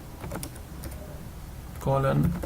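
Quick bursts of clattering keystrokes on a computer keyboard as a command is typed, close and crisp, followed by a louder patch where a voice speaks over the tapping.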